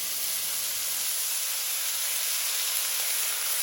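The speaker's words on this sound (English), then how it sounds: "The second side is searing exactly like the first one." A big piece of beef searing on a hot griddle gives a steady, dense sizzling hiss that holds level the whole time, with no talking.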